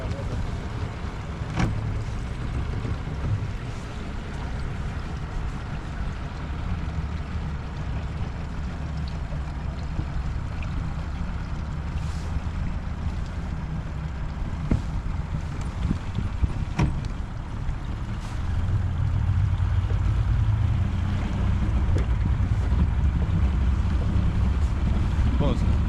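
A boat engine idles as a continuous low rumble that grows a little heavier near the end, with wind buffeting the microphone throughout.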